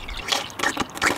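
Engine coolant poured into the radiator of a Subaru with a burst radiator, giving a soft, uneven liquid trickle and gurgle with small splashy bursts, close and moderately quiet.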